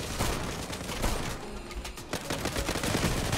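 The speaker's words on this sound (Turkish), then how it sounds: "Deagle'la bir vuruş yapmayı deneyeceğim" Repeated gunfire in the online shooter Zula, a Desert Eagle pistol among the weapons, heard as loud overlapping shots and volleys that fill the whole stretch.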